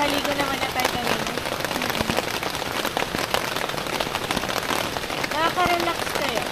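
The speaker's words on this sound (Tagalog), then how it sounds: "Pero umuulan na naman." Steady rain patters on a tent beside a river during a camping trip, a dense continuous hiss with occasional louder drops, with faint voices and birdlike chirps beneath.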